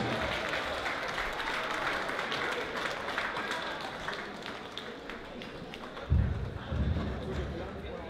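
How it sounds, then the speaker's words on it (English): A ballroom audience at a glamour-night anniversary gala claps continuously in dense, even applause, with a presenter's voice and a few louder cheers near the end. "let's give her a round of applause"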